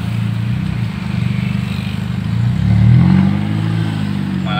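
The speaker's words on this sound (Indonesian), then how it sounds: "Mobil ngebut, knalpot crashing." A Suzuki Ertiga speeds past with a loud, crackling exhaust, a close, throbbing engine drone that swells and revs up to a peak near the middle before easing slightly.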